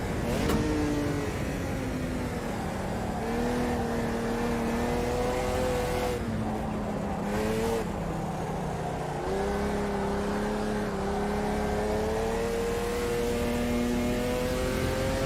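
Race car engine in the sim racing game Automobilista 2, revving hard and continuously through gear changes, pitch rising and dropping as throttle is applied and lifted, loud and close with faint tire squeal.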